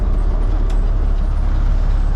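A front-load garbage truck backing up, its heavy diesel engine rumbling low and steady close by, with a brief hiss or squeak partway through.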